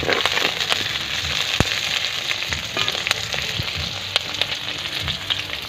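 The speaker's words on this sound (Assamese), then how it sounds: "এতিয়া মই ভাজি আছোঁ, পিঁয়াজ ভাজি আছোঁ।" Onions frying in a pan, a close, loud, continuous sizzle dotted with sharp crackles and pops across the whole stretch, with no talking.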